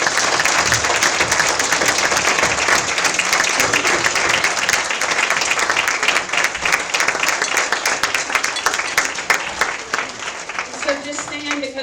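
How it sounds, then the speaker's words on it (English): A congregation at a Sunday church celebration gives loud, sustained applause with dense clapping and some crowd voices, easing slightly near the end as a voice comes in. "Let's give them another round of applause."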